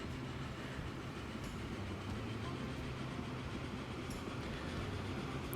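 A video game train in Transport Fever 2 accelerating downhill along the tracks with a steady rumble and faint clicking, occasional high squeaks, continuous throughout.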